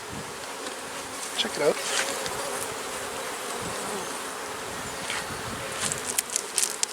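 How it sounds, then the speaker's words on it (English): A dense, steady buzz of many honey bees hums close by from an open hive throughout, with a person briefly speaking over it. "there's a good number of bees in there"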